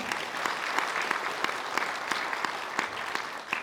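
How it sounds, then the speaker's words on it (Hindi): Steady applause from a crowd at a Brahma Kumaris memorial gathering in Ludhiana, dense clapping throughout with sharp individual claps standing out, moderately loud and continuous. "जोरदार तालियां तो बनती हैं।"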